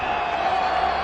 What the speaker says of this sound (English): That has stunned the crowd here at the Bernabeu.